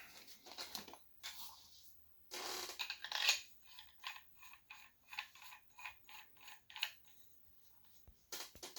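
A Field One Force paintball marker's AccuLock being assembled by hand: a series of small sharp mechanical clicks and ratcheting snaps, close and quiet, in short irregular bursts with no talk.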